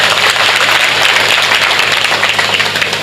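An audience at a village public gathering with a visiting minister applauds, a dense, steady wash of many hands clapping close by that fades slightly at the end.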